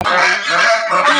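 Three geese honk loudly and close together in one continuous, overlapping burst of harsh, nasal calls.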